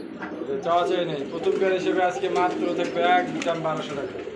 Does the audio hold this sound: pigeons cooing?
yes